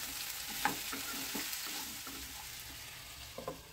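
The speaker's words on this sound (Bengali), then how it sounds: "এখন এটাকে আমি ভালো করে নেড়ে চেড়ে" Cauliflower tossed with salt in a frying pan, a steady close sizzle with repeated scraping strokes of the spatula over a few seconds and no talking.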